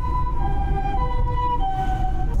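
An ambulance siren wails with a steady wavering tone over low road rumble, heard from inside a moving vehicle.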